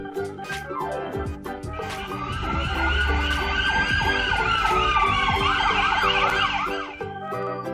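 A fire truck siren wails through a busy street, swelling louder as it passes close, with a deep horn blast and engine rumble underneath.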